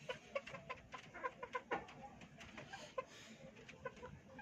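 Green Leg chickens clucking softly at a distance, scattered short calls and clucks over a faint farmyard background.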